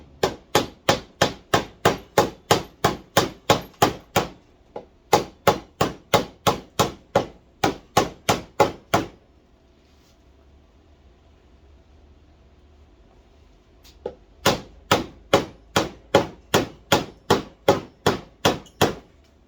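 Sharp hammer or mallet strikes chopping a wooden mortise, struck in fast even runs of blows, a pause of near silence in the middle, then another rapid string of loud, close impacts.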